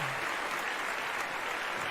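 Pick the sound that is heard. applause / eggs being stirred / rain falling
applause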